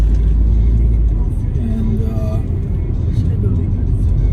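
A low, steady engine and road rumble comes from inside a 1993 Asüna Sunfire car cruising on a Sunday evening drive. People talk over the constant drone throughout.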